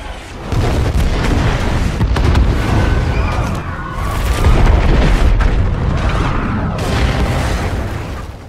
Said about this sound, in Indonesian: dengan terpaksa ia pun mengirim beberapa rudal ke titik koordinat ponsel Ling Fang, hingga berhasil membombardir semua anak buah Big Daddy yang ada di sana.